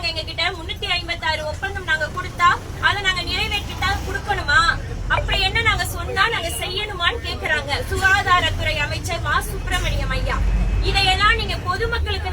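Interior of a moving bus, with a steady low engine and road rumble throughout and someone speaking close over the constant drone.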